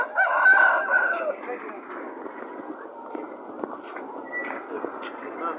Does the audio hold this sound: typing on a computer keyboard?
no